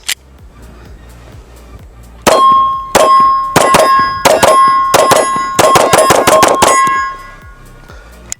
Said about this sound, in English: All right, so we'll try my first shots after Brandon and Zach did it.